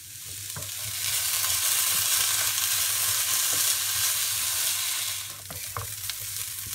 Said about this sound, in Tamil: இந்த வெஜிடபிளையும் நம்ம வந்து இந்த பூண்டு வதங்கினோடனே நம்ம இதில் சேர்த்துடலாம்.